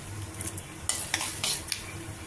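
Dried chillies and tempering spices fry in hot oil in a pan, with a soft sizzle under several light clinks and scrapes of a utensil stirring, brief and fairly quiet.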